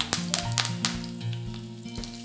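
Curry leaves and green chillies fry in hot oil, giving a crackling sizzle with sharp pops over a low steady hum, close and moderately loud, with no voices.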